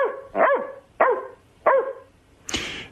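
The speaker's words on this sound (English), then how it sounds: "One That's bark. only one bark." A dog barks nearby in three loud, evenly spaced barks, followed by a sharper, noisier yelp at the end.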